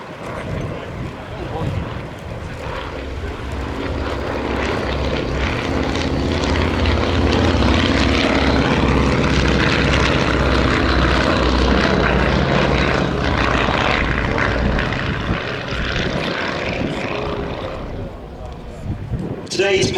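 The world's only airworthy Avro Anson, a twin-engine propeller aircraft, displays at the 2026 Festival of Flight air show. A loud, sustained propeller drone swells and fades as it passes, with an announcer speaking over it.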